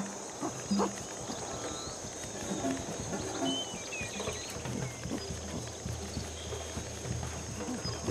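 Horses walk with soft clip-clopping hooves under a steady ambient hum in the video game Ancestors: The Humankind Odyssey, fairly quiet, with occasional faint animal calls.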